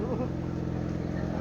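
A station wagon's engine idles steadily at close range, a continuous low rumble with a faint mechanical hum; a voice briefly speaks over it.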